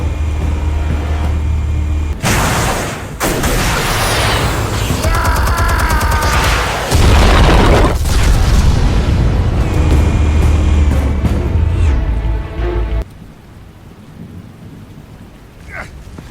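Heavy detonations from explosives in Batman: The Telltale Series, a loud sustained roar of blasts and rumbling debris with several booming surges, dropping off abruptly near the end into quieter ambience.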